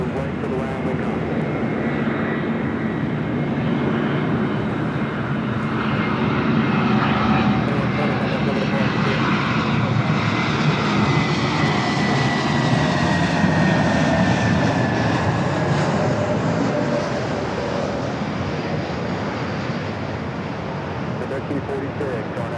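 An airliner takes off from runway 24 Left at Los Angeles LAX airport, its engines a broad roaring rumble that swells and sweeps past over about twenty seconds, with radio talk faintly underneath.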